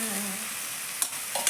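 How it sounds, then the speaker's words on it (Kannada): Fried vegetables tipped into a hot pan on a high gas flame sizzle softly, with a few quick scraping stirs near the end, close and low in level with no talking. "ಗ್ಯಾಸ್ ಜೋರಿಟ್ಟು ಇವನ್ನೇನು ಫ್ರೈ ಮಾಡಿದ್ನೆಲ್ಲ ಇವನ್ನ ಹಾಕ್ಬಿಡ್ತೀನಿ ರೀ."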